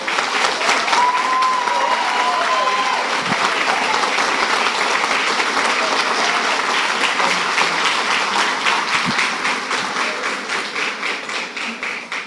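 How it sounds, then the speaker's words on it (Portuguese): A church congregation applauding, a sustained, dense roll of clapping that stays strong for most of the stretch, with a brief voice early on, before tapering slightly at the end. "Que a igreja possa aplaudir ao Senhor Jesus."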